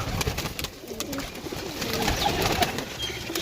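A flock of about 170 pigeons in a loft coos softly and steadily, with many overlapping low calls from nearby birds and no talk.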